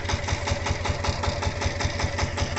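A tractor engine idling during trailer fitting, a loud, steady, close diesel chugging with an even rapid pulse throughout.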